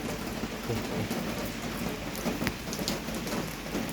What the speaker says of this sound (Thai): ฝนตกฝนตกพรมพรม